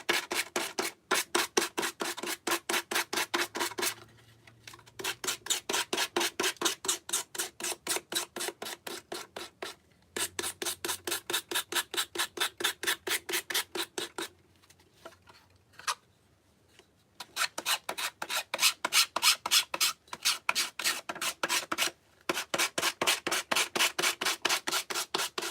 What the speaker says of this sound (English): we'll just go around and sand off the excess. I'm using 80 grit sandpaper.